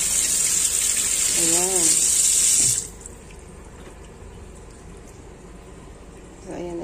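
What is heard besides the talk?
water running while washing tilapia fish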